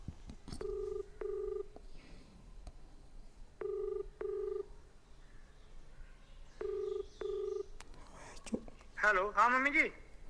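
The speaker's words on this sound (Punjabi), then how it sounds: "ਹੁਣੇ ਫੋਨ ਲਾਉਣੀ ਆ" A telephone being dialed gives three paired bursts of ringback tones spaced a few seconds apart, clear and close, before a voice briefly answers at the end.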